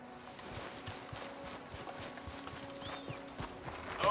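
A horse's hooves clip-clopping at a steady walking rhythm in the video game Red Dead Redemption 2, fairly quiet and continuous over soft game ambience.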